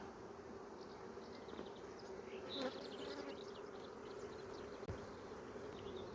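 Honeybees buzz in a Dadant hive, a dense steady hum with individual bees whining close by, quiet and continuous.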